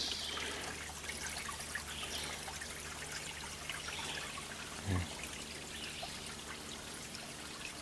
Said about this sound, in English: just a little trickle of a stream bed.